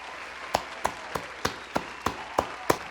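Clapping at an awards ceremony in honor of a board of governors: about eight crisp, evenly spaced claps close by, heard alone over a quiet room with nothing else going on.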